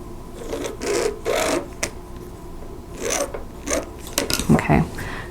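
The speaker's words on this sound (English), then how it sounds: "I need to draw a diagonal line on the wrong side of these" A marker or pencil drawing diagonal lines across the wrong side of fabric squares for an hourglass quilt block, heard as close, scratchy strokes in several separate bursts with short pauses between.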